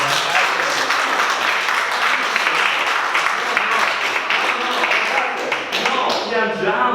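An audience at a debate on Europe claps in a sustained burst of applause, dense and even, with voices talking over the clapping.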